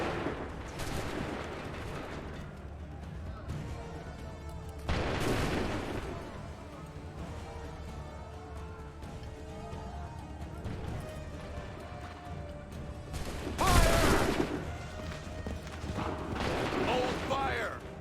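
Musket volleys in Assassin's Creed III crack out as several loud, massed bursts spread across the span, with shouted battlefield commands and game ambience between them.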